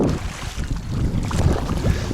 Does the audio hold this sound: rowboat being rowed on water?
yes